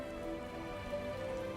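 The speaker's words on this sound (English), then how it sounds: "That's a lot of rain." Rain falls steadily in the video game RiME, a continuous even patter with faint tonal music threads running beneath it and no voices.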